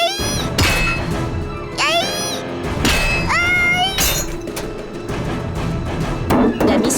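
A cat meows in rising, drawn-out cries, several in a row, over a busy cartoon-style background with knocks and clinks, fairly loud and close.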